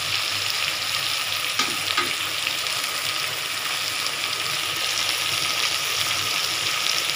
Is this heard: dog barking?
no